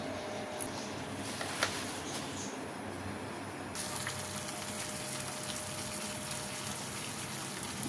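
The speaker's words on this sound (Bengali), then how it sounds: "জলটা উপভোগ করে ফুটছে," Water boils in a pot on a gas stove for tea, a faint, steady bubbling hiss with a soft, brief clink partway through.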